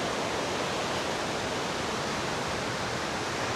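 A waterfall in the wet Daintree rainforest after days of heavy rain gives a dense, continuous roar of falling water, steady and fairly close with no voices.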